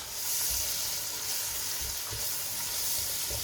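Dry masala spices for a lamb curry sizzle steadily in hot oil, a dense, close hiss with soft low thumps of stirring underneath, continuous and fairly loud throughout.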